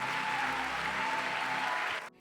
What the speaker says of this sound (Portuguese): Aplauda Jesus, Ele é o motivo da nossa existência